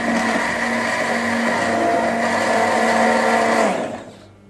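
A blender whirs loudly and steadily, mixing a juice of apples, ginger and spices, its motor holding a constant hum before winding down and stopping near the end.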